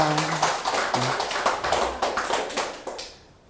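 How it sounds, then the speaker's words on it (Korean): A congregation at a Buddhist dharma talk claps together, a rapid run of sharp, fairly loud hand claps over about three seconds with a few voices underneath, fading out abruptly at the close. "이와 같이 박수 한번 치고 합시다."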